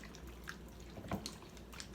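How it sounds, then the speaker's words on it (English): Carnitas pork in a pot with water and garlic being stirred, giving soft wet drips and light sloshing with a few brief clinks, close and fairly quiet throughout. "I'm just going to mix everything up."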